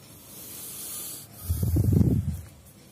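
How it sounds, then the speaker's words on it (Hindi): Electrical tape being wrapped around car stereo wires outdoors beside a car: a soft steady hiss, then a louder, closer rubbing and crackling stretch of tape lasting about a second. "इस पे टेपिंग कर लीजिए"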